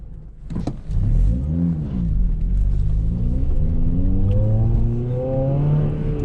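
A heavy truck passes on a highway, a deep rumble swelling and holding steady as it goes by close, with the low drone of the idling car's engine underneath.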